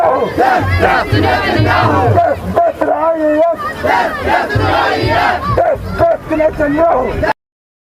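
Large protest crowd chanting in unison on the Sydney Harbour Bridge, a loud close mass of voices in rhythmic shouted phrases with short pauses between chants.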